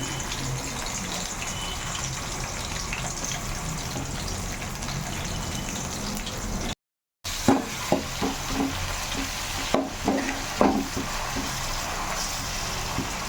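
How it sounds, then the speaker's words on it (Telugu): Chopped onions fry in about three teaspoons of hot oil for a fish curry, a steady loud sizzle with stirring scrapes and clatters, briefly cut off midway before resuming. "ఇక 3 టీ స్పూన్ల ఆయిల్ అయితే పోసిన తర్వాత ఆనియన్స్ కట్ చేసినవి కొన్ని వేసుకోవాలి."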